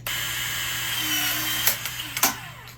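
A Ryobi PVC/Pex cutter presses through 1/2 inch PVC pipe, giving a couple of sharp close cracks and snaps over a steady background hum, with no talk.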